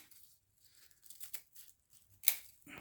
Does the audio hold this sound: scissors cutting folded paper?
yes